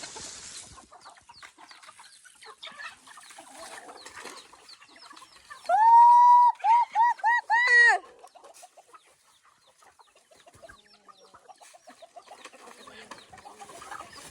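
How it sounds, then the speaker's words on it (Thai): Chickens out in a field at feeding time give soft clucks and scattered calls, then one loud, drawn-out rooster-like squawk rings out near the middle before the birds settle back to quieter clucking. "ไก่ก็ยังมีเยอะทุกคน"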